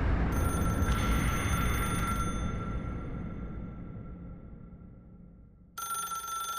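A telephone rings in a music video with a bright, sustained electronic bell tone over a dense, loud musical backdrop, fading and then cutting back in sharply near the end.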